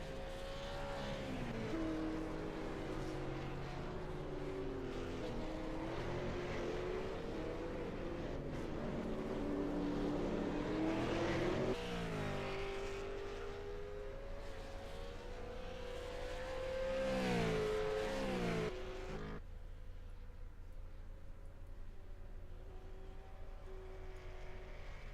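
Race cars run at the Mid-Ohio track, engines droning and rising and falling in pitch as they accelerate and shift, several cars layered together at a steady loud level for about twenty-five seconds, with no talk.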